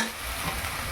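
Spice paste sizzles and fries in hot oil in a pan where fish was fried for a spicy fish curry, stirred steadily, with a close, continuous crackle and no voices.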